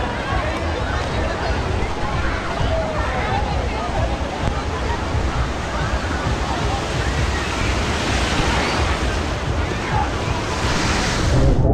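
Steady rushing water and wind noise fill the air continuously on the lazy river at Typhoon Lagoon water park, loud and close with no break.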